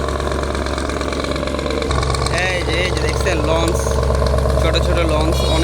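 Fishing trawler engine running at sea, a loud steady low drone throughout with people talking over it.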